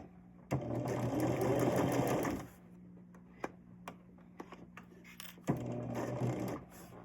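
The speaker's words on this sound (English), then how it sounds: "So I'm stitching on the line or right on the inside of the line." Sewing machine stitching a seam on a quilt block, two runs of steady fast mechanical whirring separated by quieter ticks and handling clicks, close and distinct.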